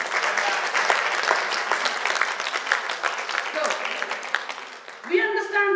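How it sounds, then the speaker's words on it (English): An audience at a health talk breaks into loud, dense applause that continues steadily for several seconds and then fades as a voice cuts in at the end. "Give a round of applause to our DXN."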